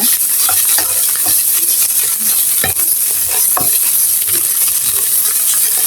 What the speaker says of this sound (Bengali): এটা ভাজা হয়ে গেছে দেখেন পানি কিন্তু নাই